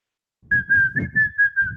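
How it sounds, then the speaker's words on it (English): A person whistles a steady, sustained tune close to the microphone, in several connected phrases with brief dips between them and no talk. "Sorry to whistle in your ear"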